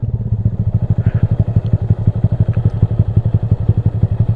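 A motorcycle slowing with the throttle released and the clutch pulled in, its engine idling in a steady, loud, close thumping pulse with no talking.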